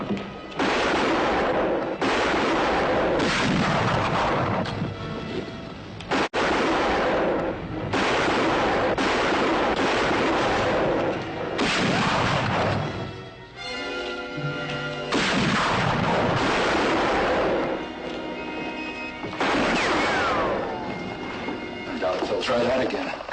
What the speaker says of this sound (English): About every minute, fire through the window.